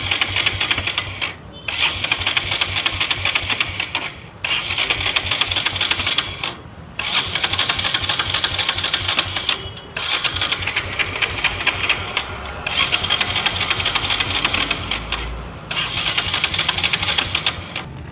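Motorcycle petrol engine running during an engine flush, a steady rapid mechanical clatter in several long stretches broken by brief pauses.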